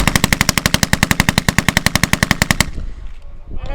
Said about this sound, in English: This is the model 1928 Thompson submachine gun.